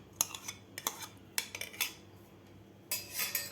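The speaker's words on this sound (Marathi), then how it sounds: "आता ह्या भातामध्ये आपल्याला दही घालायचं आहे" A spoon clinks and scrapes against a dish while mixing whisked curd into cooked rice, a few sharp close taps with short pauses, then a longer scraping stir at the end.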